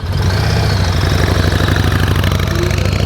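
A motorcycle engine runs at a steady, slightly raised speed just above idle, loud and close with a constant low throb and no pauses.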